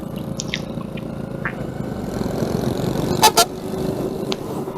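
A bus from Bandung passes on a hilly road between Ciawi and Tasikmalaya, giving two short, loud honks over steady engine and road rumble heard from an old Honda motorcycle.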